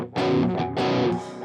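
Chunkier, driven electric guitar tone from a Line 6 Helix snapshot: two loud strummed chords in quick succession, thick and saturated, with a short ringing tail and no talking.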